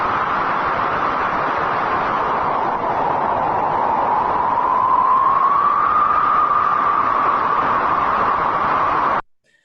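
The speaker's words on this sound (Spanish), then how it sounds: "¿Cómo suena el viento? Escuchémoslo." Wind sound effect: a steady, hollow whooshing gust that sustains loudly for about nine seconds with a slight rising swell of tone midway, then cuts off abruptly into silence.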